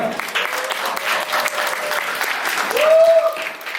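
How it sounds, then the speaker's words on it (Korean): Wedding guests break into loud, sustained applause to open the ceremony, a dense crowd clapping that swells toward the end, with a faint tone running beneath it. "하객 여러분들께서는 시작을 알리는 큰 박수 한번 보내주시면 감사하겠습니다"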